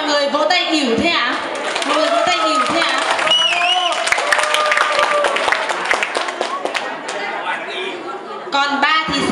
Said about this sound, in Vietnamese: Sao rồi mọi người vỗ tay hỉu thế ạ?